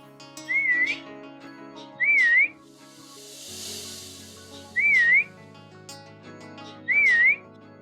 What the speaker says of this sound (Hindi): सीटी मारता हूँ।